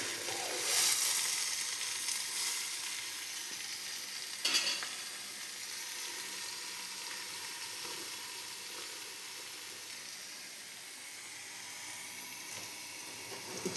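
Soybean masala roasting in oil in a pan over a wood-fired stove, a soft steady sizzle with occasional stirring scrapes, moderately close and alone.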